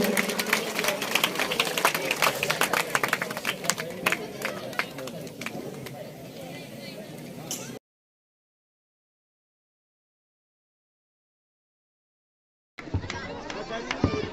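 Crowd applause and cheering welcome guests at a statue unveiling in a village panchayat, dense clapping with chatter for several seconds, a gap of silence, then clapping again.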